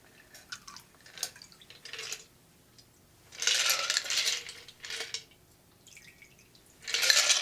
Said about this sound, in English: I've got my chilled V Martini glass, and I'm going to pour that in there.